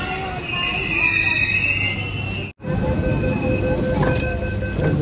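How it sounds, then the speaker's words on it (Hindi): A Delhi metro train runs along the track with a steady rumbling roar and high, sustained wheel squeal, interrupted by a brief dropout midway before the noise resumes. "साउंड सुनो इसका, चलो चलो चलो चलो। बहुत दिन के बाद मेट्रो में चढ़ रहा हूँ यार"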